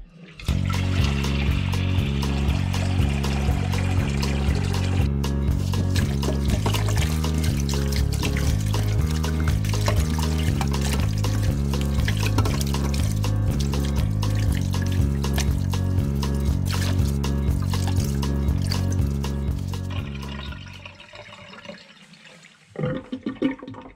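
Split leeks are washed under running water in a kitchen, a steady loud gush and splash of tap water for about twenty seconds before it tapers off to quieter trickles and handling noises.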